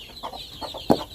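Short, soft clucks from hens nearby, a few scattered calls over quiet background.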